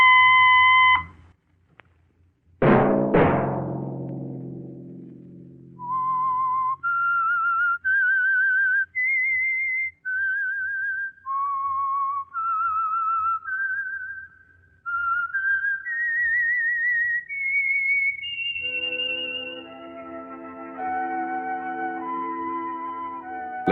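A whistled signal tune serves as the theme of The Whistler radio show, a clear solo melody of sustained rising and falling notes after a sharp opening tone, then a brighter orchestral phrase joining at the end.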